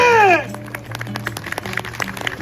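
A short vocal cry fades into scattered clapping from a crowd at a stage skit performance, sparse and fairly distant, patting along unevenly.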